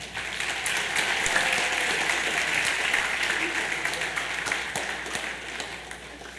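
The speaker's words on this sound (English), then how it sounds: "Let's give all the volunteers and participants one more big round of applause" An annual day audience gives a big round of applause for volunteers and participants, a dense, sustained clapping from a large crowd that swells early and slowly fades, with voices talking beneath it.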